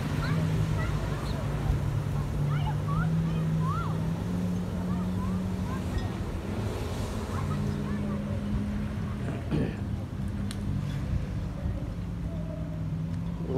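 Water scooters run on the sea at a beach, giving a continuous droning motor hum with a shifting pitch, heard from a short distance under wind noise and occasional distant voices.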